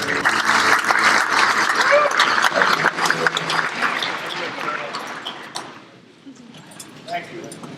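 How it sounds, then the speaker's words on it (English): An audience at a veterans' gathering applauding itself, loud dense clapping from many people that gradually fades out, with voices and some cheering mixed in. "Give yourself a rousing round of applause"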